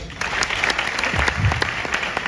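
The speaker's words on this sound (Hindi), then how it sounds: "thank you very much in दोनों के लिए तालियां" An audience at a university talk applauds with dense, continuous clapping that is fairly loud and holds steady throughout.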